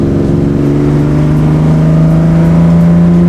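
A 1964 Ferrari 250 Lusso Competizione engine revving in second gear, loud and close, a steady tonal roar whose pitch climbs smoothly as the revs rise.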